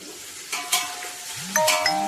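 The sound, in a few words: onions frying with whole spices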